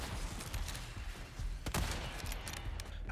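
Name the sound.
sniper rifle shots in Resident Evil 4 Separate Ways video game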